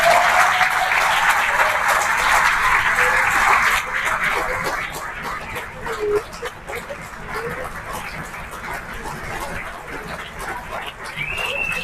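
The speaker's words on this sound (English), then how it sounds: "let's give a round of applause to our 2025 Lawrence County Sports Hall of Fame inductees" A seated crowd gives sustained applause for Lawrence County Sports Hall of Fame inductees at a 2025 ceremony, steady clapping that stays loud throughout and dips slightly in the second half, with a few faint voices mixed in.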